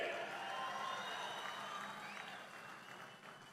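Applause from an audience at a political speech, a broad wash of many hands clapping that fades gradually over a few seconds, fairly distant.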